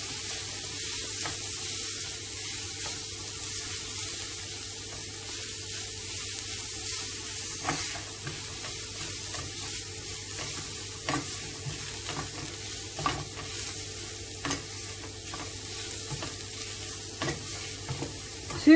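Chilies and spices frying in a pan for dhal puri, a steady soft sizzle with scattered scraping taps of a utensil stirring, moderately quiet and with no talking.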